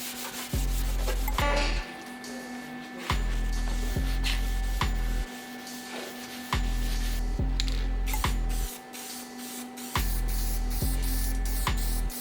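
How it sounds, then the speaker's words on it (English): Primered VW Vento / MK3 Jetta car parts being spray painted, with loud hissing bursts of a few seconds each, separated by short pauses, over a low steady hum and no talk. "then shoot some paint on them, just so any exposed metal parts just don't rust"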